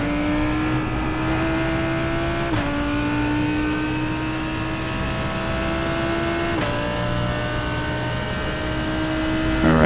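Race car engine from iRacing at Virginia International Raceway runs steadily through a lap, holding a loud sustained drone. Pitch climbs gradually, dips sharply at two gear shifts, then rises again.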